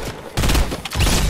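Rapid gunfire bursts from a video game firefight, loud and dense across the whole moment, with short gaps between volleys and no talk over it.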